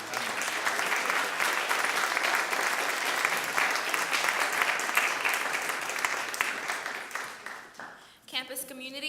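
Sustained audience applause at a college graduation ceremony, a dense wash of many hands clapping that stays steady for most of the stretch before fading, with a brief voice appearing at the very end.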